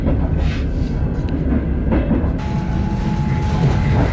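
A passenger train pulls out of Vladivostok, its steady low rumble heard from inside the carriage with faint rhythmic wheel clacks and a thin sustained tone in the second half.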